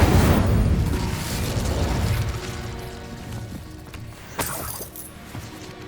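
Spell blasts cast in the Hogwarts Legacy video game: a rumbling, booming barrage that fades through the middle, then a sharp burst near the end with crackling debris. No one talks.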